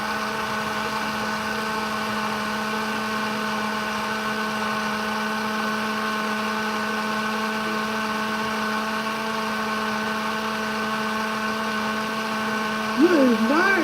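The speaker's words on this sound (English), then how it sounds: "I thought I broke the blender." A kitchen blender runs steadily while blending ingredients for fermented tofu, a constant loud motor whine with a sustained hum that holds unchanged throughout, with a brief extra wobble near the end.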